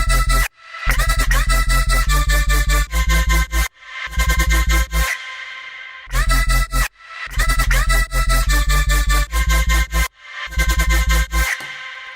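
A bright, layered synth lead stacked into a chord from different sounds, recreating a remix, plays a choppy rhythmic pattern of loud bursts with short gaps, alone and up front.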